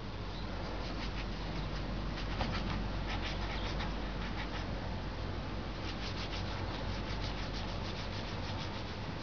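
An eraser rubbing back and forth on paper, a steady close scratchy friction that runs continuously without pause.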